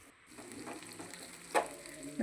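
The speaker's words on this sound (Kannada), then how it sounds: "ಟೊಮೊಟೊ, ಕರಿಬೇವು ಎಲ್ಲ ಹಾಕ್ಕೊಂಡು ಫ್ರೈ ಮಾಡ್ಕೊಳ್ತೀನಿ ಈಗ ನಾನು." Chana dal, onion, curry leaves and tomato fry in a little oil for a vegetable palya, a steady close sizzle with a sharper scrape or clack near the end.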